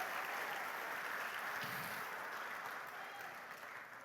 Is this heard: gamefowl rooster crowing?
no